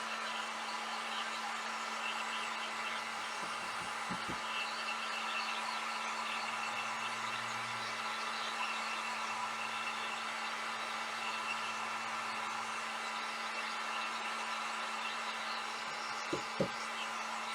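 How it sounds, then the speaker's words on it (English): Heat gun blowing steadily while crafting home decor, a continuous even airflow hiss with a constant low hum, near and unbroken, with a few faint clicks toward the end. "You want to be careful when you're using your heat gun."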